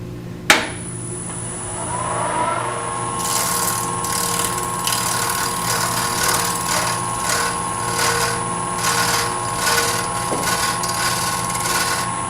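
A gouge cuts wood spinning on a lathe for a miniature vase, giving a close, steady scraping hum with a rhythmic run of ticking, chattering contacts after a sharp knock at the start.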